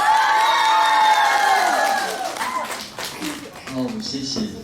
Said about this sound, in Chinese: 给大家欢呼声，欢呼声，再来一次